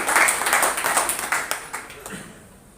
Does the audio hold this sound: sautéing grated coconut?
no